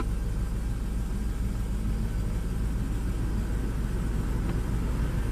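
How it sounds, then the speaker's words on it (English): Engine of a vehicle idling steadily right after a closed throttle position reset, a continuous low rumble at moderate level with no speech, holding even throughout. "So we'll start it up just to verify we have a correct idle."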